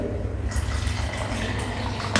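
Water pours steadily into texture paste powder in a close, splashy rush that keeps going without pause.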